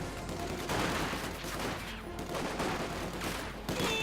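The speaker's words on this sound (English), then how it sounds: "Conscripts sneaking about there, opening up fire." Infantry gunfire from Company of Heroes 2, conscripts opening up in a sustained, dense fusillade of overlapping rifle and machine-gun bursts that keeps going loud and close throughout.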